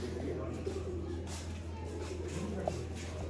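Sialkoti slate pigeons coo quietly in a loft, soft low coos under a steady hum and light shuffling, while someone talks nearby.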